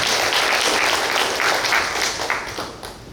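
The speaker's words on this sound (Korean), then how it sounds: "한 번 더 큰 박수로 하나님께 감사드리겠습니다." A church congregation claps loudly together during a Sunday worship service, a full, dense round of applause that holds steady and then gradually thins out toward the end.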